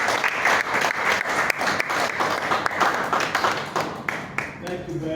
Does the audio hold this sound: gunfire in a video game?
no